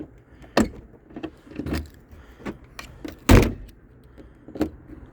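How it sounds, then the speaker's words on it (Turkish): A car trunk lid is worked open with a key against a stiff, sticking lock: a series of sharp clunks and rattles, one heavy thud standing out, with quieter key and latch clicks between them, close up and with no voices. "bagaj kapağımız anahtarla bayağı bir zor açılıyor gördüğünüz gibi."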